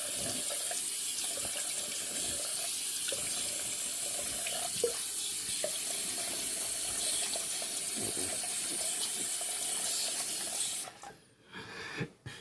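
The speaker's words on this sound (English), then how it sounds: "Time to rinse off for the final time." Tap water runs steadily into a sink for a post-shave rinse, a continuous close rushing splash that cuts off near the end, followed by a few brief drips and handling sounds.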